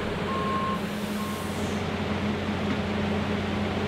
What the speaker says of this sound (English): this Progress Rail in-track welding truck makes quick work of fusing rails together with the power of flash butt welding